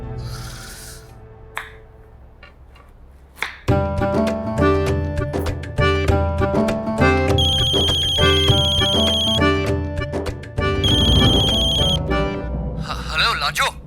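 A phone ringtone bursts in after a few quiet seconds and plays a loud, bright, repeating electronic melody close by for the rest of the clip.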